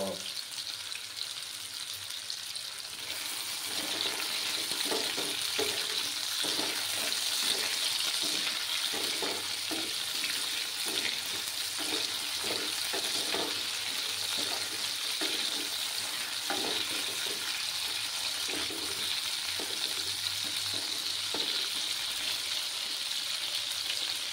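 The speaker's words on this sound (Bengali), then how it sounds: "আমার আলুগুলো ফ্রাই হতে থাক" Salted potatoes frying in a pan for a Bengali milk potato dish, a continuous close sizzle and crackle that swells after a quieter start and runs on steadily with light clicks, no voices.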